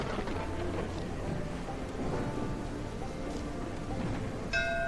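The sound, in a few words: heavy rain in the video game Whiskerwood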